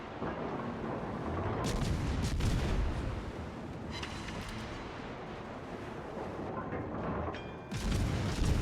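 Naval gunfire rumbles from the Tier 10 Russian light cruiser A. Nevsky in the World of Warships game, on the Islands of Ice map. Deep booming salvos and dense low rumble continue throughout, loud and close, with no talk audible.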